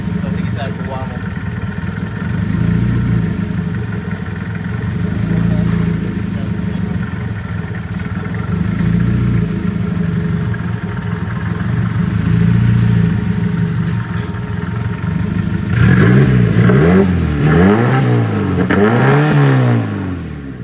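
Smart car engine with modifications warming up, a steady idle drone, then several loud rising and falling revs near the end, with someone talking over the idle.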